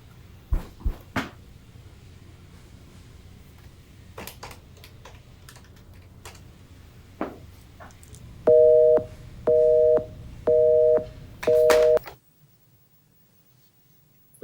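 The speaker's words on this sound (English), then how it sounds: "Can't believe they ain't picking up the phone. Can't even leave a voicemail." Telephone busy signal from an unanswered call: four evenly spaced loud beeps, each about half a second, following quiet keyboard typing and soft clicks, then near silence.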